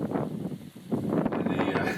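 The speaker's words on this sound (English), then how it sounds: "Very windy." Gusty wind outside a dive shop in Belize buffets the microphone in rough, surging waves, with a brief lull partway through before the rumbling picks up again.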